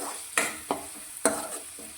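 Chaat masala and garam masala sauté in a little oil in a kadai for a puffed-rice snack. A low sizzle is punctuated by three or four crisp, close spatula scrapes against the pan.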